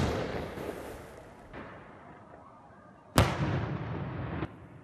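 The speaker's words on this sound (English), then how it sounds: "At exactly 7:48 p.m., Sanduka triggers the shot with his remote control." A Ramadan cannon fired by remote control at sunset lets out one sudden, loud blast, followed by a rumbling, echoing tail that hangs over distant background noise.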